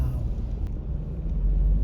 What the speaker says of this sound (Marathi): फिरतो आपली गाडी आता.